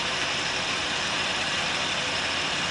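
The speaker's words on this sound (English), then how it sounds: "Oh, his tail is rattling" A rattlesnake coiled and facing a person rattles its tail in a steady, dense buzzing whir that holds unbroken and fairly loud throughout, with no talking.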